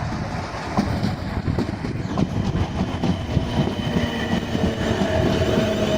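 A Class 450 train bound for London Waterloo rolls through Clapham Junction, its wheels clattering rhythmically over rail joints in a steady, fairly close passing rumble with no talk.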